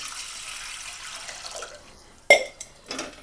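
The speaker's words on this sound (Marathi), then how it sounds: "इथे 1 तांबे पाणी टाकले" Water pours from a tambya into a pot on a gas stove with a soft rushing flow that fades, then a sharp splash and a second gush near the end.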